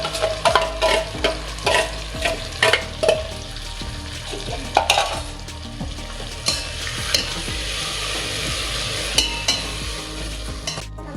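Mixed vegetables fry in a pan with sautéed onion for veg biryani: a constant close sizzle broken by repeated sharp scrapes and clacks of a spoon stirring against the pan, with no talking.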